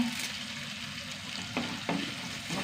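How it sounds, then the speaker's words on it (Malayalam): Ginger, garlic and small shallots sizzle in a pan, a soft continuous frying hiss with a couple of light stirring scrapes. "ഇഞ്ചിയും വെളുത്തുള്ളിയും ചെറിയ ഉള്ളി നന്നായി മൂത്ത് വരട്ടെ"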